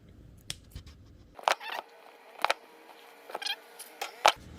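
Scissors snipping through a Crown Royal bag's fabric to make a shift boot, several sharp, close cuts in irregular bursts amid quiet handling noises.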